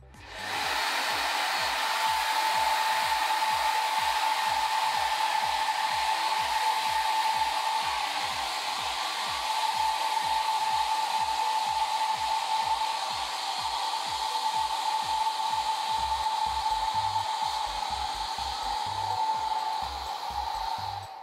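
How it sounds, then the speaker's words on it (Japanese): A hair dryer blows steadily on hair that has just been brushed through, a loud continuous whoosh with a faint high whine, and a rhythmic low flutter as the airflow is moved over the hair; it runs unbroken for about twenty seconds. "この状態でもう一度ドライヤーをかけます。"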